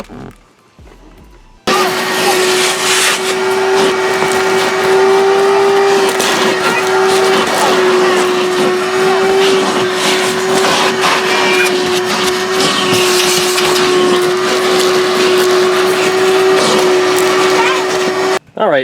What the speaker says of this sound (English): All right, vacuumed out both sides.